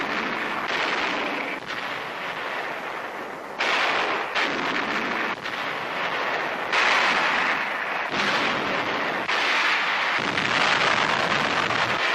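US artillery guns shelling a cave during the Battle of Saipan in 1944: a continuous, loud roar of heavy blasts and rumbling bursts that overlap one another, with no gaps or voices.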